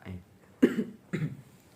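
Two short, husky coughs about half a second apart, close to the mic, with a faint murmur before them.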